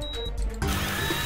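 Surgical drill in a surgeon video game, heard as a loud, close mechanical whir that shifts to a harsher, steadier grinding tone partway through the short burst, with no talking.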